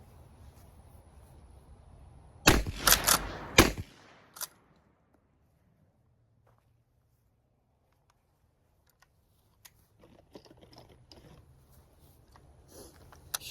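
A Winchester lever-action 12 gauge shotgun with a 20-inch barrel fires a rapid cluster of loud blasts close together, mixed with the metallic clack of cycling the lever, followed by quiet and faint handling noises.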